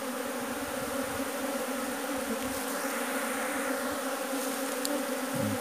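A swarm of bees arrives at a square wooden bee trap box, a dense continuous buzzing hum holding steady and close throughout, with no talking.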